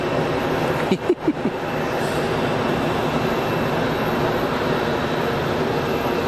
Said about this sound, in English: that Etihad 380 almost right over the top now